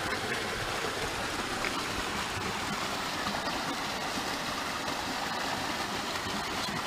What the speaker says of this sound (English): Cool waterfall.